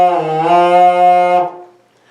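A homemade kazoo hummed into gives a steady buzzy, nasal tone with dense overtones, held for about a second and a half and then cut off, loud and close with no talking.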